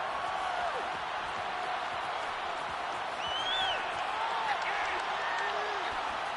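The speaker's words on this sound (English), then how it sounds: "The crowd getting into it as we come up on a big 3rd down." Crowd noise at a Packers vs Chargers football game before a big third down: a broad, steady roar from a distant stadium crowd, with a few whistles rising over it. No clear rise in cheering.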